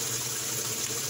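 Steady water running into a washing machine drum during a cleaning cycle with washing machine cleaner, a continuous close hiss with no breaks and no talking.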